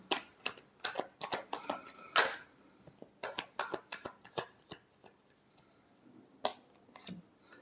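A deck of tarot cards is shuffled close by, with bursts of crisp riffling and slapping clicks in an uneven rhythm, pausing briefly between shuffles with no talking.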